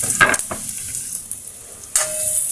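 Garlic and onion go into a hot pan to sauté, giving a soft sizzling hiss with a few sharp utensil scrapes and clicks up close.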